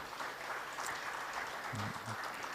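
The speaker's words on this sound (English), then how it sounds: "So please, let's give them a round of applause for them." Audience applause for panelists at a research conference side event, a steady wash of clapping at moderate level with a brief voice heard near the end.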